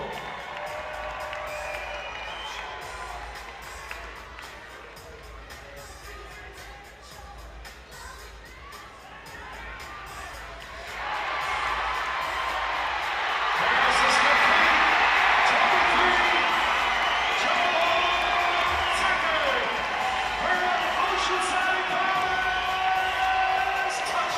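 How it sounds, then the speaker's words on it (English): A stadium crowd cheers for the Oceanside Bombers at an AF1 arena football game against the Beaumont Renegades, the roar swelling loudly about halfway through and staying up as a broad, sustained wash of whoops and shouting. "Fans, let's cheer on your Bombers."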